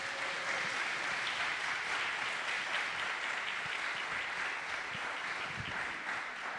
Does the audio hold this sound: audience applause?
yes